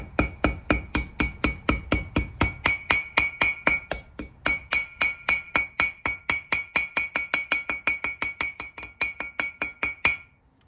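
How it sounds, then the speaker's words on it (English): Hammer tapping a front brake part into place on an '83 Mustang Foxbody, a long steady run of sharp metallic taps close by, evenly spaced with a brief pause midway. "with a few taps of the hammer here, we should be able to get this to sit in here"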